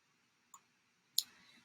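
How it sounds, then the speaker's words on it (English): A computer mouse clicks on a save button, giving a faint single click followed by a sharper, louder click about half a second later, in an otherwise quiet room. "let me just click on save."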